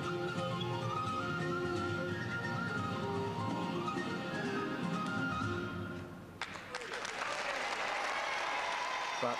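An audience at the Techno Games 2002 robot competition claps in sustained, dense applause, with a commentator talking over it before the clapping shifts to a brighter, more scattered texture near the end.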